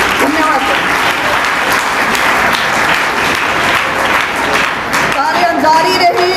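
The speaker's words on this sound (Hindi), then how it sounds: "मैं प्रार्थना करती हूँ आप सभी से एक बार तालियां बजा के सबका धन्यवाद करती हूँ।" Loud, dense audience applause at a school admission festival and prize-distribution ceremony in a village in Hisar, sustained steadily throughout, with a voice briefly audible near the end.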